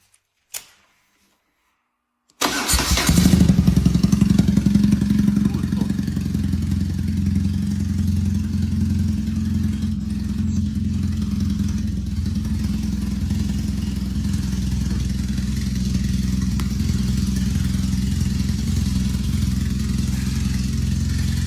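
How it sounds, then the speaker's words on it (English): A BMW R 1200GS motorcycle, just after an exhaust repair, cranks after a short silence and fires up, rising into a brief rev before settling into a steady, close idle with mechanical clatter. "I quickly put the necessary parts back in place simply, and I want to test it to verify our guess."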